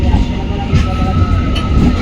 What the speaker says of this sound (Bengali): এটা হাসনাবাদ থেকে ট্রেনটা আসছে,